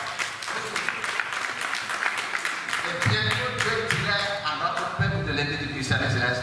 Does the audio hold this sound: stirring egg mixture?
no